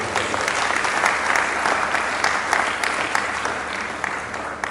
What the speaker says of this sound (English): This is a big round of applause.